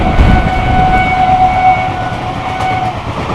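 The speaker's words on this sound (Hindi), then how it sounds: "क्या ताबड़तोड़ रफ्तार में निकल रही है गाड़ी," Mahabodhi Express passenger train racing at high speed, a steady loud rumble of wheels and carriage noise with a sustained tonal whine running throughout, heard from on board.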